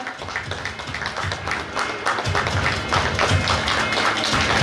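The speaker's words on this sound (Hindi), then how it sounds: "जोरदार तालियों के साथ इन बच्चों की हौसला अफजाई की जाए" An audience at a pre-primary school annual function clapping in a steady burst of applause that builds slightly and carries on throughout, with no one speaking.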